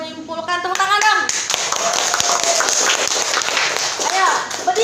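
Classroom students clap together, a fairly loud burst of scattered hand claps mixed with children's voices and chatter.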